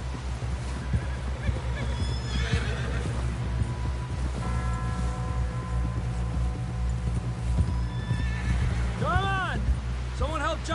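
A horse whinnies in a video game, several rising-and-falling calls near the end over steady clip-clopping hooves and a low rumbling ambience, with characters talking throughout.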